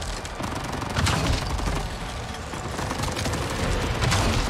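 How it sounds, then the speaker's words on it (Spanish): Gunfire in the video game Avatar Frontiers of Pandora, heard as a dense, continuous barrage of rapid shots with a steady, loud roar and no gaps. "No, sí, me están disparando"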